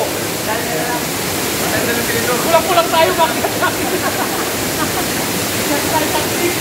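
Marking Falls waterfall in Olongapo City roars as a steady, dense rush of falling water, filling the scene at close range while a person speaks over it.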